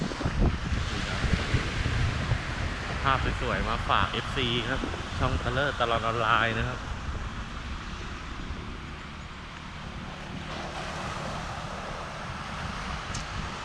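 Strong surf rolls in steadily at Mae Ramphueng beach on a late morning, mixed with gusty wind noise, while someone talks over the constant wash of the waves.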